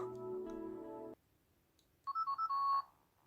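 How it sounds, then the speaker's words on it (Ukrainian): A Siemens C65 mobile phone plays ringtones: first a steady multi-tone chime, then silence, then a short, bright electronic melody of quick beeps, all close and alone without talk. "по рингтонах. Що тут у нас є?"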